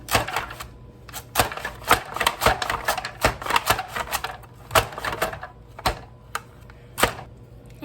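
Carrots being sliced on a Rapid Prep Mandoline: quick, sharp rhythmic clacks and crunches as each stroke passes the blade, close and fairly loud, in an irregular run with brief pauses.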